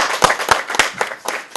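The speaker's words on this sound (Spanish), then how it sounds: "Una mujer elegante supone un aplauso." A studio audience on a Venezuelan TV talk show claps in a short burst, with several distinct hand claps under a lively room tone.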